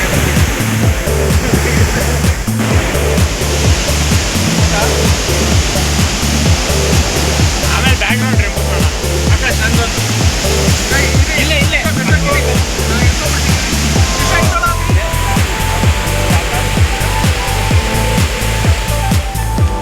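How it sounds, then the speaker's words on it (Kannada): Abbey Falls near Madikeri in Coorg roars loudly and continuously, a dense, steady rush of falling water close by, with faint low thumps beneath it. "ಇಲ್ಲಿ ಫಾಲ್ಸ್ ಇದೆ."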